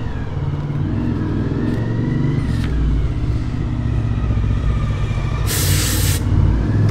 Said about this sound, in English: Might be a bit noisy, it's my neighbour coming home on his bike.